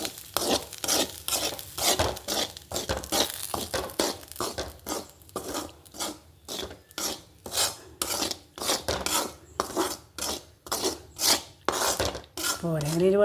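Upma is stirred in a pan with a spoon, giving repeated close scraping and rasping strokes in an uneven rhythm, with occasional light clinks of metal on the pan.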